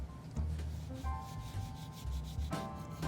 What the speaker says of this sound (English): we'll just give this a little light sand just to finish this one off